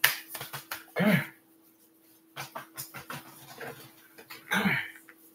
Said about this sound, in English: my dog is freaking crying over here now